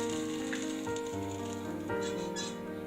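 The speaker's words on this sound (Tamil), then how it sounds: "அடுத்ததா அதே கடாயில ஒரு சின்ன சைஸ் தக்காளியும் சேர்த்துக்கலாம்" A small tomato sautéing in oil in a kadai for Chettinad ennai kathirikai kulambu: a steady, close sizzle with soft crackles and pops, under faint background music.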